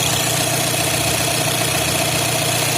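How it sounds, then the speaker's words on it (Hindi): An Audi A6 2.0 engine idles steadily after a water pump replacement and timing job, a continuous even hum with low vibration, close and without talk. "तो फ्रेंड्स हमने कार को स्टार्ट कर दिया है। ओके, तो जैसा कि आप देख सकते हैं कार इंजन स्टार्ट हो चुका है।"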